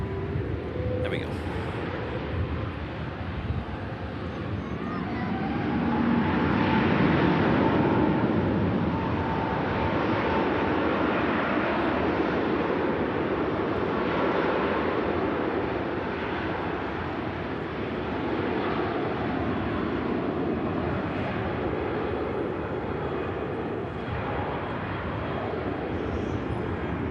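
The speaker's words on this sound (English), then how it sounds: "Off goes the Singapore Airlines Airbus A350 900 series." A Singapore Airlines Airbus A350-900 departs down an airport runway, a broad, roaring jet-engine rumble that swells and holds steady at a distance, mixed with wind buffeting on the microphone.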